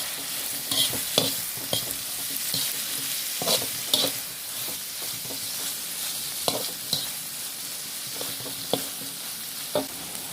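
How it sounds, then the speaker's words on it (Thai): Mushrooms stir-fried in a pan, with a soft sizzle underneath and intermittent scraping and tossing sounds from a utensil, close up. "เสร็จแล้วเราก็ใส่เห็ดที่มีกีลงไปนะคะ แล้วก็ผัดให้สุกนะคะ"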